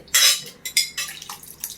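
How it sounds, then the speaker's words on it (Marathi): Clattering and scraping of food being poured and tipped into a metal jar, a few short clinks and rattles close by. "आता मी सर्व या मिक्सरच्या भांड्यामध्ये ओतून घेते"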